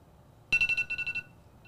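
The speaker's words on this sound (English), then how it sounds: "Now that our timer has gone off" A kitchen timer alarm sounds a rapid burst of about ten sharp electronic beeps within roughly three-quarters of a second, bright and close, then stops, with a faint quieter beep near the end.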